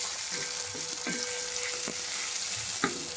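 Chopped tomato and onion fry in a pan with a steady, loud broadband sizzle, broken by several sharp scraping clicks as the mixture is stirred.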